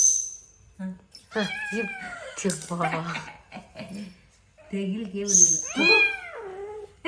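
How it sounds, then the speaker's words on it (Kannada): Several cats meow and yowl in close succession, some drawn out and wavering, with a light metallic jingle and faint voices between cries. "ಎಲ್ಲ ಬೆಕ್ಕುಗಳದು ಕೂಗುದು"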